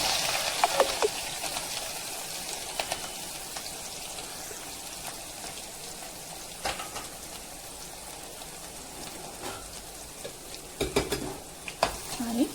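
Cumin, mustard seeds, green and red chillies and onion sautéing in a pan: a soft, fairly faint sizzle with scattered spoon scrapes and clinks, a few louder stirring bursts near the end, no voices.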